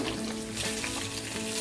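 Dry red chillies crackle and sizzle in hot oil with mustard seeds and dal, a steady close frying hiss with small pops.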